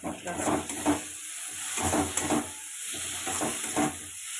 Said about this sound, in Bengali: দিয়ে এবার ভালো করে কষাতে হবে